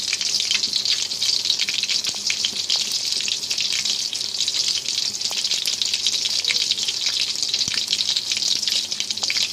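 Kebab pieces fry in hot oil, giving a steady, bright, bubbling sizzle with tiny crackles that holds at an even level throughout.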